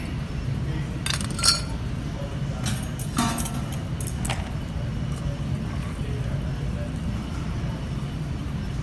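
Ice clinks and rattles in a cocktail glass with cranberries in a few scattered bright bursts, over steady background noise.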